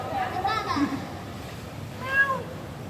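A cat meows twice, a drawn-out wavering call early on and a shorter rising one near the end, moderately close against a quiet background.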